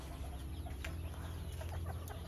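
A white Kelso rooster and hen together, with soft, scattered clucks over a steady low rumble of background noise.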